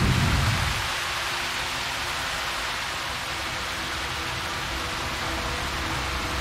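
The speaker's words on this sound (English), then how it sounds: "It's raining." Steady, dense rain pours down, a constant broadband hiss with a louder burst at the very start, no voices.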